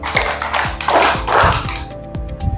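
A class of students in an Islamic religious education lesson claps in unison on the teacher's cue, about four loud, sharp group claps spread unevenly across the moment, with room echo.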